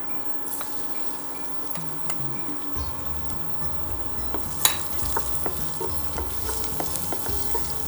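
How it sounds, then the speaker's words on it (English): Ground garlic sautéing in hot oil in a pan, a continuous close sizzle with light scraping and tapping of stirring throughout, no talk. "Once oil is hot, put garlic"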